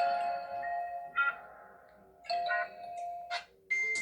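Samsung Galaxy phone playing its Glassy Bell ringtone, a sequence of clear, glassy chimes with sustained ringing tails and sharper accented strikes near the end.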